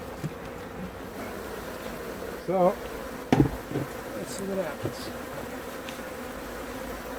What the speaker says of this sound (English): We got a lot of bees up here.